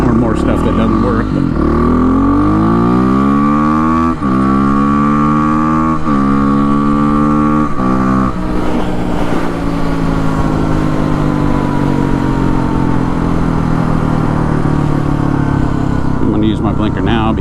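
Kawasaki KLX300R dirt bike with an FMF Powercore exhaust and open air box riding through town, loud engine revving up through gears in repeated rising pulls, then a steadier cruise, heard close and continuous.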